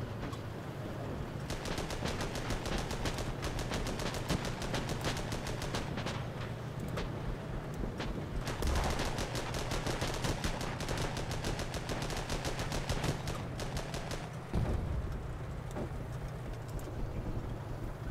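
Rapid automatic gunfire rattles in long bursts in the tank combat video game Armored Battle Crew, dense fast shots with short pauses between strings, loud and close over a low engine rumble.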